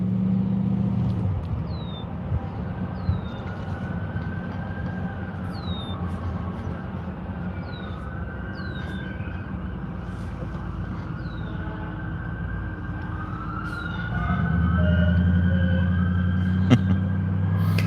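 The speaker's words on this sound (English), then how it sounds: "You can tell there's all kinds of different sirens that different vehicles have in them." Mixed sirens from a line of police and emergency vehicles rolling in a blue-light caravan through central Ohio, wailing and whooping steadily throughout with engine rumble underneath, growing louder and heavier near the end.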